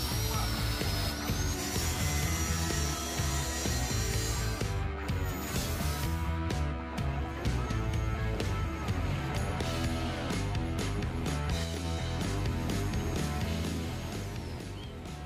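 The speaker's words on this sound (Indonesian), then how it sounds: "Di sini cara memotongnya kita memakai gerinda tangan biasa ya, dengan cara pemotongan mengikuti terus tanda atau garis potong yang sudah dibuat." A hand angle grinder cuts through the metal roof of a Suzuki Jimny Katana, a loud, continuous grinding whine that runs unbroken and close for the whole stretch.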